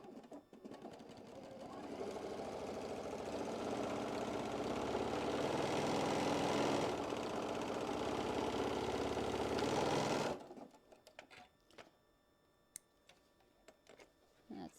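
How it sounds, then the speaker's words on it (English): A sewing machine stitches a quilt block with a loud, steady whirring hum for about eight seconds, then stops, and only faint clicks and handling noises follow. "I'll flip it around and we're going to sew up the other side."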